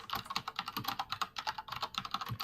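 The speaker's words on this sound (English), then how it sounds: "I hear the clickety-clack of European keyboards." Rapid, steady clacking of keys on a computer keyboard, close and fairly loud, with a continuous run of typing and no voices.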